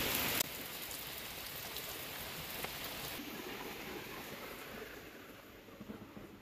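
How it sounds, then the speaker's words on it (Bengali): Heavy rain falls steadily outside at night, a dense, even hiss of drops striking surfaces that continues without a break and with no voices. "শব্দ শুনতে পাচ্ছি বাইরে অনেক বেশি বৃষ্টি হচ্ছে"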